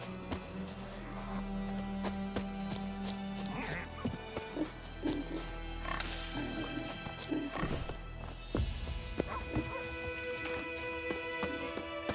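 Horses in The Witcher 3 clop along with steady hoofbeats and give occasional whinnies, set among game ambience and scattered knocks, with a little talk now and then.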